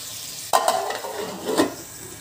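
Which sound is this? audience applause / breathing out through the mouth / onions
onions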